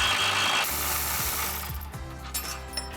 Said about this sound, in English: you can grab an 18mm swivel socket. Get this bolt off.